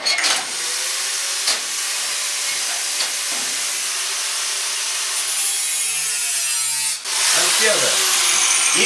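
An angle grinder cuts through metal for an armour bracer, a loud, continuous high-pitched whine that runs steadily for several seconds, dips briefly, then surges back.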